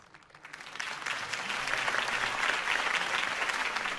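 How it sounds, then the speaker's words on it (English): Crowd applause in the Batman: The Telltale Series video game, a dense wash of clapping that swells in over the first second and holds steady, moderately distant. "If only Mr. Wayne, my campaign's largest backer, could have heard that applause"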